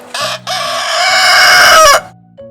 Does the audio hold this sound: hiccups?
no